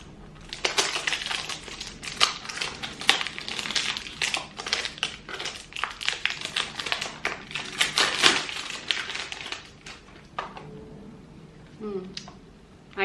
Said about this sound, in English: Okay, let's open the packaging.